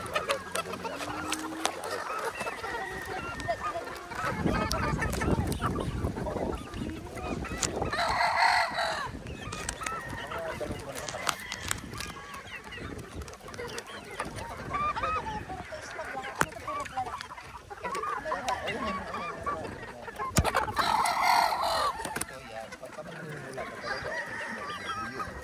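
Pullets and broodstags in a backyard flock cluck and crow, with several loud crows standing out among continuous clucking and scattered calls, close and busy throughout.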